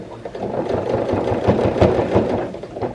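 A sewing machine running steadily as it stitches a jean skirt, with a dense, continuous mechanical whir at an even pace, close and fairly loud, with no talking.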